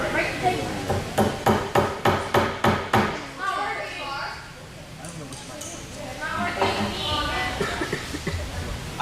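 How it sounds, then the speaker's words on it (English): A hammer strikes a screw into wood about ten times in a quick, even rhythm of sharp knocks, then stops as a person starts talking. "I try to hammer in the screw into this wood, and it's literally not going anywhere."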